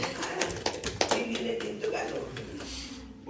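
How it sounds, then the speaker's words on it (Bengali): Sharp hand claps at a family first-anniversary celebration at home, several irregular, closely spaced claps over the first half, mixed in with lively overlapping voices and fading out toward the end. "হাততালি হাততালি"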